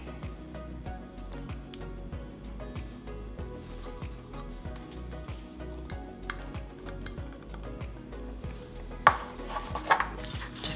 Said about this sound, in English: Going to stir that up